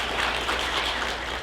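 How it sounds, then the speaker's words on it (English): A convention Q&A audience gives a dense, continuous burst of applause, steady and close, with no pause in the clapping. "Everyone, big round of applause for Mark."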